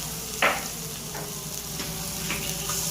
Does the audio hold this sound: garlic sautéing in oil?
yes